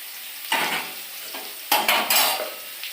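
Hilsa fish curry cooking in a pan with tomato and green chili added, giving bursts of sizzling and frying with stirring and utensil clatter, two louder flurries close by, no talk.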